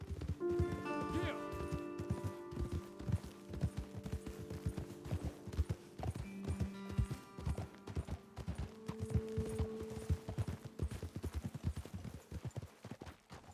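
Horses in Red Dead Redemption 2 clip-clop along at a steady trot, hoofbeats continuous and fairly close, with voices talking over them and an occasional snort or whinny.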